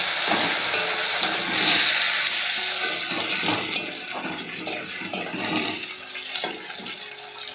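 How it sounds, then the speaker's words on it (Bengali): Softened onion and a tomato fry and hiss in a pan with a steady crackle while being stirred, with irregular scraping and clatter throughout. "এবার আবার একটু নেড়ে চেড়ে নেবো"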